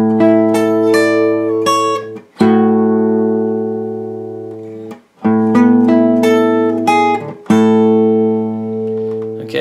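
Guitar plays the short melodic intro of a song, plucked notes ringing out into sustained chords, with brief pauses between phrases.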